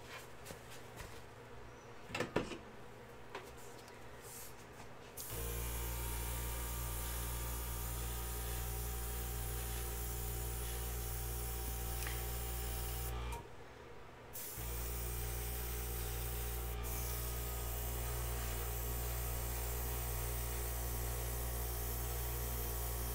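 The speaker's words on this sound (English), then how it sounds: "Let me airbrush these edges into each other" An airbrush spraying acrylic paint onto the edges of a fluid art ring pour, a soft faint hiss after a few quiet handling sounds, running steadily with one short pause before resuming.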